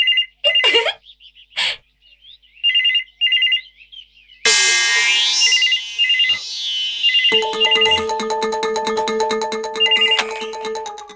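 A phone ringtone chirps in repeated short bursts, then a louder, denser electronic melody plays continuously with a few sharp clicks over it.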